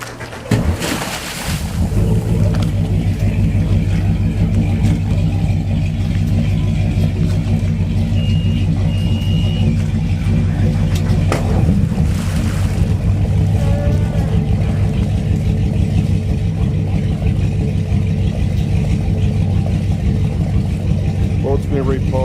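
Twin 8.1 Crusader Captain's Choice marine engines, freshwater-cooled, on a 1999 Luhrs 32 Open start up with a short cranking burst and settle into a steady, loud, deep idle rumble; a voice talks over the engines.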